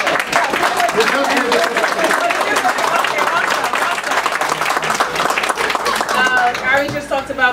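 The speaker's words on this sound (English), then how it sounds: "All the judges stand up so we can give a round of applause." Audience at a Brooklyn Democratic club meeting applauding the judges, dense steady clapping filling the room with voices mixed in, ending with a few scattered cheers.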